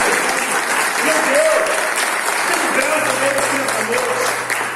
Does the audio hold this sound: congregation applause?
yes